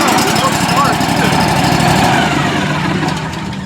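Remote control lawnmower with a 25-horsepower engine runs loud and close, a steady mechanical drone with rapid low pulsing that eases off slightly near the end.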